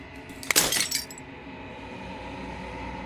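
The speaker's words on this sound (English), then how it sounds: "The final fragment of glass shatters" Glass shatters in Slay the Princess in one sharp burst of breaking and tinkling shards lasting under a second, followed by a faint sustained ambient hum.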